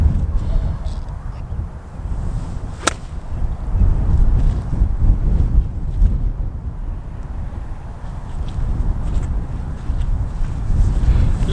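Strong wind buffets the microphone on an open golf course, a loud continuous low rumble with one sharp click of a wedge strike partway through.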